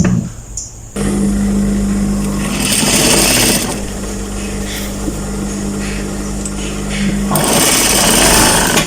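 A sewing machine stitches women's long office trousers, its steady mechanical whir running loud and close for several seconds before stopping, then starting again near the end.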